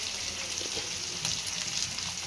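Capsicum fries in a pan for capsicum chutney, giving a soft, steady, even sizzle with no clear breaks and no talking.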